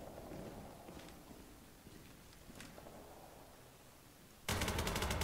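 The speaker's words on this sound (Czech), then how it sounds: "Teď po mě někdo střílí." Faint scattered shots sound in the distance in the game Ballistic, then a loud burst of rapid automatic gunfire erupts close by at the end.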